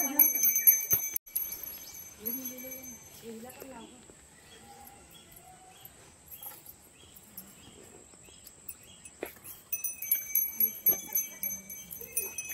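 A hand bell rings at home during the Gauri festival, with bright, sustained metallic tones at the start and again near the end, while people talk in between.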